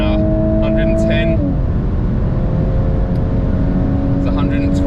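A Volkswagen Mk8 Golf R accelerating hard at around 100 to 110 mph, with a loud, steady engine and road roar and a gear change partway through, heard from inside the car.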